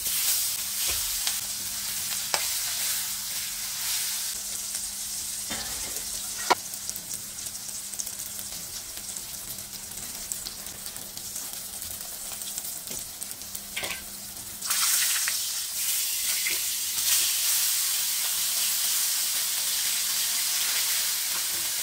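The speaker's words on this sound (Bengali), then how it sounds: "এখন মাছগুলি ভাজা করে নিব।" Fish coated in salt, garlic paste, turmeric, chili and cumin fries in a pan with a steady, dense sizzle and crackle, close and continuous, with occasional sharper pops and a brief surge of hissing partway through.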